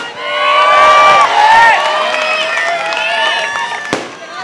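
Fireworks crackling and whistling outdoors at a political election rally in Maharashtra, with rising whistles and a sharp pop near the end, over crowd noise and shouting voices.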